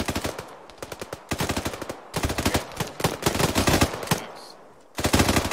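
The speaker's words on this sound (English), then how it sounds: "we got a machine gun there" Machine gun fire in the video game Operation Mosul: loud, fast bursts of automatic shots broken by short pauses, with one long sustained burst near the end.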